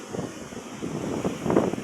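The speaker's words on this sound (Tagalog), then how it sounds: "Malakas lang yung hangin" Low, rumbling wind at a seashore with a wrecked seawall buffets the microphone throughout, a steady roar with gusty swells that grow stronger near the end.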